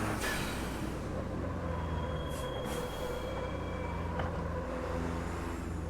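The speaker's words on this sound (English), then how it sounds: "Sounds like metal on metal braking." In the Automobilista racing game, a semi truck's metal-on-metal brakes grind and squeal over a steady low rumble of engine and road noise, loud and continuous for several seconds.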